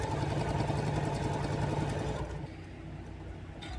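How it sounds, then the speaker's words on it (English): A sewing machine stitches fabric quilt squares in a rapid, even mechanical chatter close by, slowing and quieting near the end, with no voices. "Our next section is we're going to take our D square and sew it."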